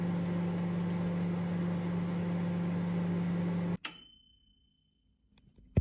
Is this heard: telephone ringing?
no